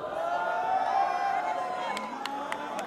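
Crowd cheering and whooping at a live comedy show, a steady roar of voices with a few sharp claps or shouts near the end.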